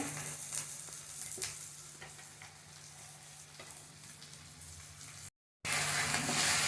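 Ground masala for a Vidarbha-style dahi misal sizzling and frying in a pan with onion and tomato, with steady crackle and scraping stir strokes throughout, cut by a short silent gap before the sizzle resumes louder.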